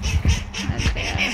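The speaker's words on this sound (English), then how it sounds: "So here are the duckies." Ducks at a wildlife park quack in quick, nasal bursts, several calls overlapping close by in a short busy flurry, with no talking.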